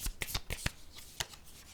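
Tarot cards shuffled and drawn, heard as several sharp, close flicks and snaps in quick succession, then a single card slap, with no talking.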